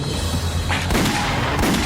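Gunfire erupts during a car chase scene, a dense, loud barrage of booming shots over a rumbling background, with bursts hitting at irregular moments.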